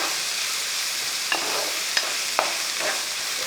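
Chopped onions sautéing in a pan for a Kerala-style soya chunk curry: a soft continuous sizzle broken by a few distinct scraping strokes of a spoon, close and moderately loud, with no talking.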